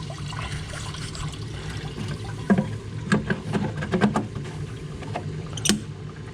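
A pump running on a Pontiac G8 with an LSA engine, water trickling and dribbling steadily, with faint hum underneath and occasional small knocks, close and fairly quiet.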